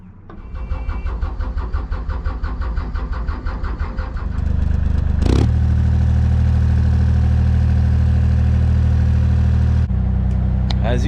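A Dutch barge's diesel engine cranks with a rapid rhythmic chugging for several seconds, then catches and settles into a steady, loud idle before cutting off.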